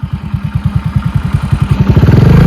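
A truck passes very close on a road, its engine producing loud, rhythmic low thumping pulses that gradually quicken and swell in volume, with no talk over it.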